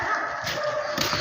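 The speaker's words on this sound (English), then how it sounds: "What are you barking at?" Several dogs bark in a garden at a home in Russia, sharp yelps landing twice over a noisy outdoor background, fairly close.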